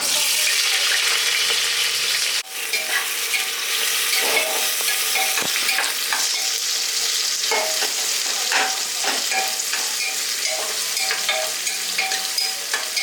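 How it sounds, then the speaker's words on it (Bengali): Dry red chilies, cumin and onion frying in hot oil, a steady loud sizzle with occasional stirring scrapes and clinks running throughout, briefly dipping near the start. "শুকনো লঙ্কা ফোড়নে দিয়ে দিলাম জিরে পেঁয়াজ"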